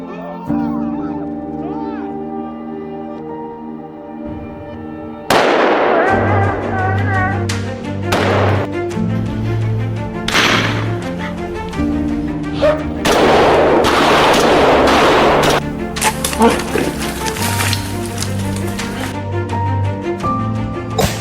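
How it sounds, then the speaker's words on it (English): A hunting rifle fires at a black bear in the wild, sharp loud reports landing over a background of steady tonal music, several bursts in quick succession through the middle of the clip, with speech heard during parts of it. "So I took the shot."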